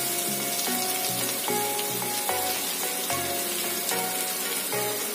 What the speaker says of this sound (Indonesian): Nah, kalau udah begini kita masukkan si oncomnya ya.